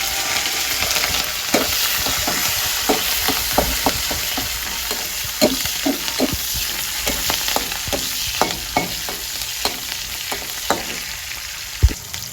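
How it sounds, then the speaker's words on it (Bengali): Green chilies and cumin fry in hot oil, giving a constant close sizzle broken by repeated sharp clicks and scrapes of stirring, with one louder knock near the end. "একটু সময় ভেজে নেওয়ার পর এখন দিয়ে দিব হচ্ছে আমি অনেকগুলো কাঁচামরিচ।"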